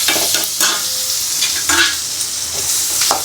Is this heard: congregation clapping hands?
no